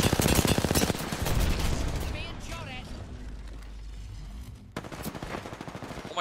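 Gunfire in a video game strikes the player from behind, a loud machine-gun burst of fast close shots that fades into rumbling, with a voice talking over it.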